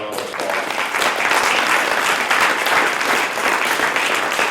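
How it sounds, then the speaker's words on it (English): A conference audience applauds a professional panel at a CG Alliance event, steady dense clapping throughout at a full, even level with no pauses. "Ladies and gentlemen, please give our professional panel a round of applause."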